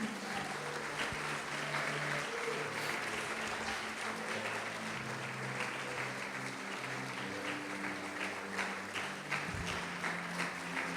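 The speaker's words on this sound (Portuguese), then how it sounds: "Pode aplaudir, glorificar," A church congregation applauding during a sermon, with steady, fairly distant clapping across the whole stretch and a low tonal hum beneath it.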